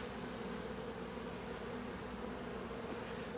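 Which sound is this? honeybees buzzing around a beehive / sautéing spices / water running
honeybees buzzing around a beehive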